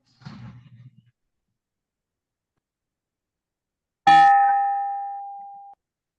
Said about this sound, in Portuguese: apresentando o sino